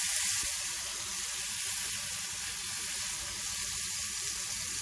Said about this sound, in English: I started hearing it sizzle.